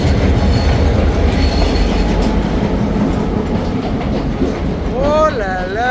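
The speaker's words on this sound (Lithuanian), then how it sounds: "Traukinys atvažiuoja aplink kalną." A train rounds a mountain near the Nine Arches stone bridge at Ella, rumbling and clattering loudly and steadily, then its wheels squeal in rising and falling whines near the end.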